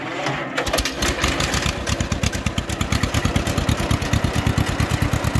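A John Deere lawn tractor's small engine, unused for a month or two, starts after a brief crank, then runs with a fast, steady putter that is loud and close.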